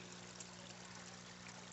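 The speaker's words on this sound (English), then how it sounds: "Here's my rock creek." Small rock creek in a backyard, a soft, even trickle of water running steadily and quietly, with a faint low hum underneath.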